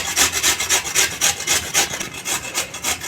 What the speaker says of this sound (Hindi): ऐसे ही गाजर को घिस लेंगे हम